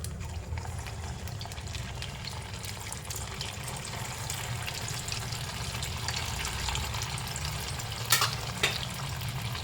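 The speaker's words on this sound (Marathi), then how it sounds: "आता आपण त्याला मिडियम आचेवर करून घ्यायचं आहे आणि आपण त्यात आपण आपले साबुदाण्याचे फ्राईज घालायचे आहेत" Sabudana fries deep-fry in hot oil over medium heat, a dense, even bubbling sizzle held close and steady throughout, with one or two brief clinks near the end and no voices.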